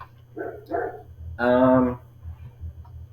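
A dog kept outside barks a few times, short yelps followed by a longer, louder tonal bark or whine, over a steady low background hum, with no talk.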